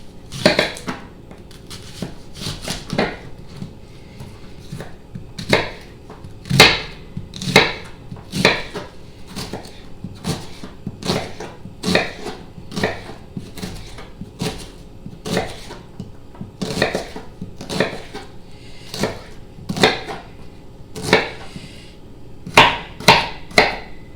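A knife chopping a whole onion on a board, sharp regular knocks repeating at a steady rhythm for over twenty seconds, close and loud with no talking.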